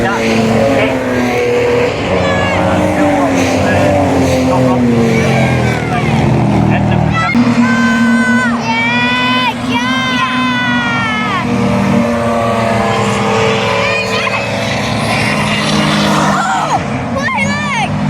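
A Jaguar XKR X100 racing car driving on a circuit during a race, heard loud and close from onboard: the engine revs rise and fall with gear changes, and voices come through over the engine.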